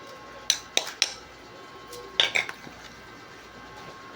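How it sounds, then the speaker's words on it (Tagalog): A utensil stirs food in a cooking pot with a few bright metallic clinks against the side, first a quick cluster of three and then another short burst, between quiet pauses. "halo-haloin lang natin"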